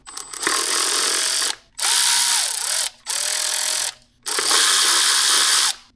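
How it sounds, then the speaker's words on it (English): A 10mm socket on a ratchet drives out the ignition coil bolts on a 2000-2006 Mini Cooper 1.6L four-cylinder in four loud, rapid clicking bursts with short pauses between them. "Now I'm going to use a 10mm socket and we're going to remove these 4 bolts."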